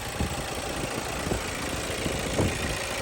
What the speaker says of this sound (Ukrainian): Реально прикольно робить двигун, тихенько, гарно. Зараз я відкрию капот і ви самі зможете почути.